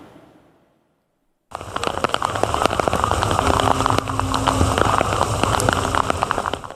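Heavy downpour pours over Istanbul on a flooded morning, a dense, loud roar of rain striking surfaces that starts abruptly after a brief quiet and continues unbroken, with a faint engine hum beneath.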